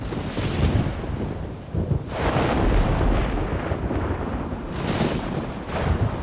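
A thunderstorm in the video game theHunter: Primal, with heavy, loud, continuous rumbling thunder and rain roar, swelling in a few strong surges.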